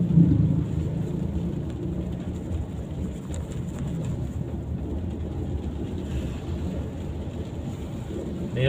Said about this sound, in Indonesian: Ini udah mulai gerimis guys,